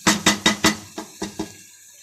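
A spoon clanks against a metal cooking pot while bhuna qorma is stirred, giving seven close, ringing scrapes. The first four come quickly and the rest are slower and softer.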